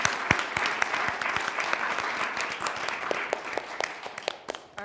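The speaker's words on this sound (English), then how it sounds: "And I applaud you all so very much." Audience applause at a conference, a dense burst of many hands clapping close and loud, tapering off toward the end.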